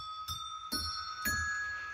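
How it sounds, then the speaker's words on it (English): A set of tuned bells, each tuned to a different pitch, is struck three times at a steady pace. Each strike leaves bright metallic tones ringing and overlapping one another. "All tuned to ring differently."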